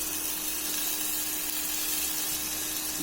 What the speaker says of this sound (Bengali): এই যে এখন একটু আদা বাটা দেবো, এখানে আদা বাটা, আদা রসুন সব বাটা রয়েছে